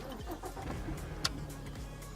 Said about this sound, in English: while the car just idles